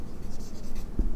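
Pen scratching a formula onto paper during a solid geometry math lesson, a short burst of quick, close scribbling strokes with a soft tap near the end.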